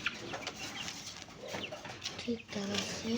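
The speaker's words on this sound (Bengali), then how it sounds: "মুরগিগুলা" Domestic chickens in a backyard coop cluck and call intermittently at close range, with other birds and soft background activity around them.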